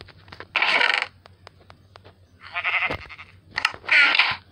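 Three bleating calls from sheep in a video game, spaced a second or so apart, over quiet clicks and a low background hum.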